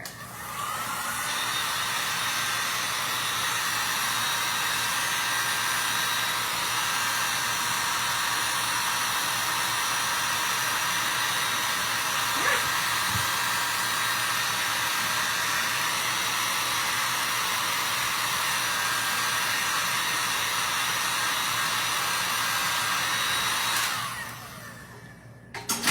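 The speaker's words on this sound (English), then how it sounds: "This is my hair dryer" A hair dryer blows steadily and loudly for about 24 seconds with a constant whirring hiss, then cuts off near the end. It is being used to dry metallic paint on pumpkins.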